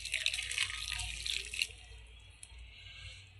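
Hot water pours into rice flour for akki roti dough, a close splashing stream that runs steadily, then stops and leaves soft low background noise.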